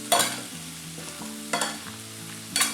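Onions with dry chili and chili powder sautéing over low heat in a pan, with three sharp spatula stirs and scrapes about a second apart over a soft, steady sizzle, close up with no voices.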